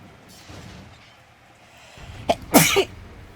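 A single loud, sharp sneeze bursts out near the end, after a brief sharp intake, over a quiet room hum while a streamer plays Final Fantasy XIV; nobody speaks.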